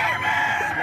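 A rooster among a large flock of chickens crows briefly, loud and close, a single sustained call with other fowl faintly audible beneath it.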